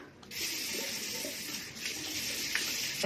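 Steady running water from a tap streams while a face is washed, a continuous close hiss with no talking.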